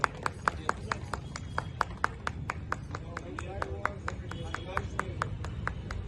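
Hand clapping from a crowd at a palanquin ceremony keeps up a brisk, fairly regular rhythm of sharp claps, with voices talking underneath throughout.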